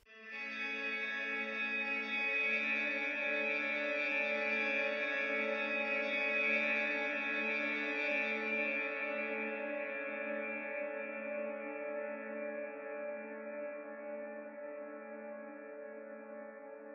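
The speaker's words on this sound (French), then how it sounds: "le resampling ne va enregistrer que la reverb et plus le son de base" A washy guitar reverb tail, resampled without the dry sound, rings on its own as a sustained, shimmering chord with no attack, slowly fading over about seventeen seconds.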